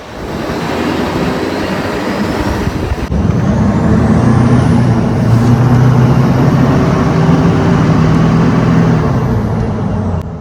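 A 2006 Chevrolet Duramax LBZ diesel pickup rolls steeply downhill. A loud, steady, close drone with a rising whistle-like whine carries throughout, with no talking.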